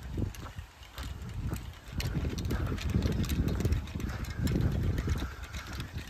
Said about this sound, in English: the wind is blowing that way, and we're going this way